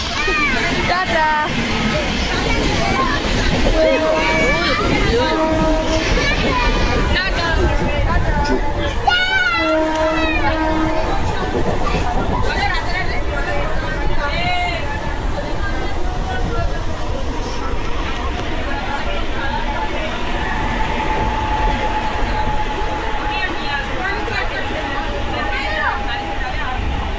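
A moving Indian passenger train heard from inside the carriage: a continuous loud rumble and rattle persists throughout, with passengers chatting in the background.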